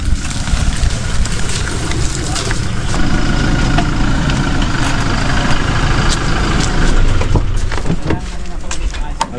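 A motorcycle engine idles steadily nearby at a farm gathering, a low rumbling chug running throughout under people talking.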